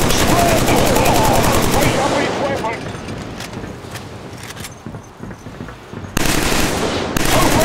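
Heavy automatic gunfire and explosions in the Killzone 3 video game, loud and continuous at first, then thinning to scattered shots before sharp loud bursts return, with voices shouting under the combat.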